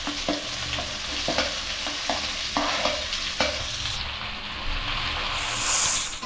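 Onions fry and are stirred in a pan for a village-style chicken green masala, producing a constant close sizzle with repeated scraping knocks of the spoon against the pan and a brief rising hiss near the end.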